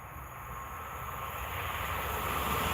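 Two coupled Class 350 electric units, eight carriages in all, run along the West Coast Main Line between Crewe and Stafford, a distant rushing rumble that steadily grows louder as the train approaches.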